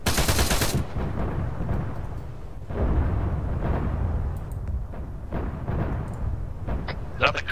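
Tank ammunition cook-off explosions in the Arma 3 video game: a dense loud burst at the start, then repeated popping blasts and rumbling fire under background noise.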